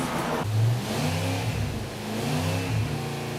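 An AMC 401 V8 racing engine revs up and down in repeated pulls, a deep throaty roar rising and falling up close, with no voices.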